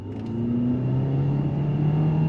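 A 2023 Mitsubishi Eclipse Cross compact SUV with all-wheel drive accelerates on throttle, its engine rising in a steady, close drone with whirring tones climbing in pitch inside the cabin.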